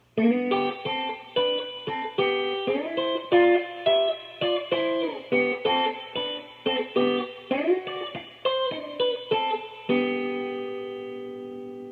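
Electric guitar plays a song's fill at slow tempo, a steady run of distinct plucked notes and double stops with effects, ending on a ringing sustained chord, clear and close with no talking.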